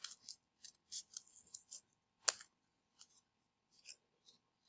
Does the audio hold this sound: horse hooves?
no